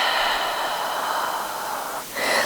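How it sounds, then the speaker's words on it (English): Deep, steady yoga breathing with big inhales and long exhales, close and airy. One long breath runs through most of the stretch, then a brief pause and a fresh rush of air near the end. "connecting to your breath. With big inhales and long exhales."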